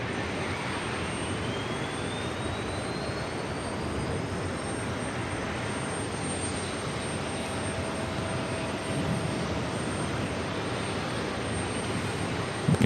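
A Delta Air Lines Airbus A330-300 on arrival at JFK airport, its jet engines a steady, broad roar that holds strong throughout, with a faint rising whine sweeping upward as it passes.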